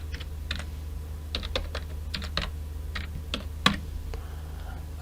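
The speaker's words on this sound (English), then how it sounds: "and then you're going to provide your password." Password being typed on a computer keyboard: a run of irregular, close, crisp key clicks with short pauses and one sharper keystroke near the end, over a low steady hum.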